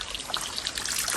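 A stream of flowing water trickles and splashes steadily for a brief moment, close and moderately quiet.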